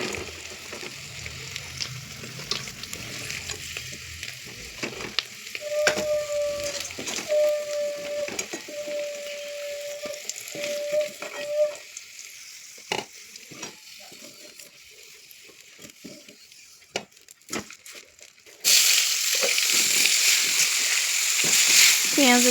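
Potatoes frying in a pan give a steady sizzle over kitchen clatter, with a sustained tone and intermittent clicks partway through and a louder burst of sizzling near the end.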